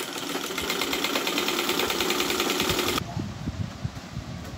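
A sewing machine runs steadily while stitching a two-year-old girl's dress, a dense even whir that stops abruptly about three seconds in, leaving quieter handling noises and light knocks.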